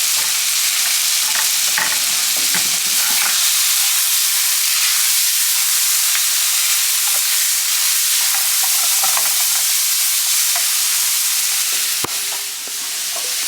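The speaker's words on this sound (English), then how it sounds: "So I'm just cooking the shrimp now." Shrimp fry in a pan with a steady, loud, close sizzle and hiss that runs throughout, with faint clicks of stirring and no talking.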